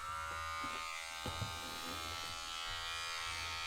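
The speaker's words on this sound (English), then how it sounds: "You really did improve these clippers, man. Let's turn them on." GAMMA hair clippers fitted with a taper blade running steadily after being switched on, a close, even electric buzz with a faint tonal hum and a few small handling clicks.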